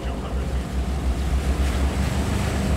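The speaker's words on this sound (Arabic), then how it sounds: "بحر كبير هذا، بس" Large waves on open sea wash and surge steadily, with wind buffeting the microphone throughout.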